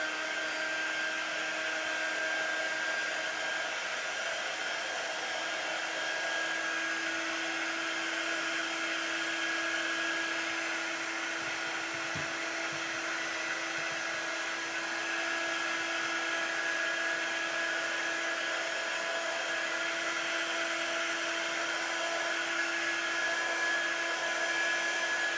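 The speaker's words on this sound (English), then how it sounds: "you could use a blow dryer as well. This just sort of melts a lot of the glue strings that seem to be everywhere." A blow dryer runs continuously close to the microphone, melting strings of hot glue on decorative angel wings, a steady whirring hum with a single faint click midway and no speech.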